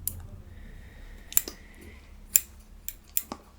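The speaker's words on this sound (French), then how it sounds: "J'aimais beaucoup les bruits de paires de ciseaux." A pair of scissors snips in a quiet ASMR setting, giving close, crisp metallic cuts. A few sharp isolated clicks are spaced irregularly, with a faint sliding ring between them.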